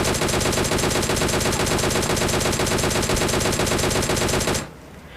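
Sustained rapid automatic gunfire from PUBG Mobile, a dense unbroken burst of shots, loud and close for several seconds before cutting off into quiet.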